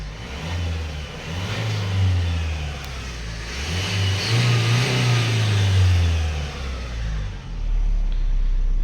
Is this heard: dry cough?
no